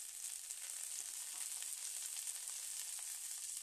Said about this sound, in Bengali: এবার সব কিছুর সাথে ধনিয়া পাতাও আমি কিছুক্ষণ ভেজে নেব